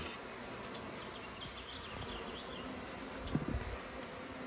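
A feral honey bee colony living in a hollow tree hums in a steady, dense drone throughout, with a brief closer burst of buzzing near the end.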